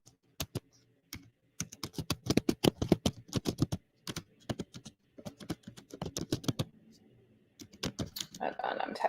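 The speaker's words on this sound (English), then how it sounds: "Hold on, I'm typing it in there now." Bursts of quick typing on a computer keyboard, clicking in uneven flurries with short pauses between runs, close and clear with no voices over it.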